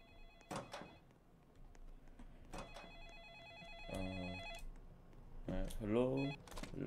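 A telephone rings repeatedly in a video game, with bursts of electronic bell tones recurring over several seconds amid a voice talking and other game sounds.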